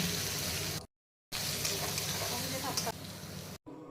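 Chopped onions hit hot oil already holding whole cumin, dried red chillies and asafoetida, giving a steady broadband sizzle broken by a brief silent gap and a sudden cut near the end.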